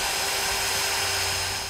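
A power drill bores through the core support of a 2013 Smart fortwo, a steady loud whine that holds for the whole stretch with no speech over it.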